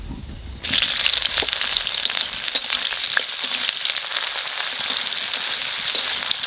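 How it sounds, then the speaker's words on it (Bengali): Onions fry in hot oil with bay leaf and cumin for a raw jackfruit and potato curry, a steady close sizzle that starts abruptly and crackles on without a pause. "পেঁয়াজ ভাজা হয়ে গেছে"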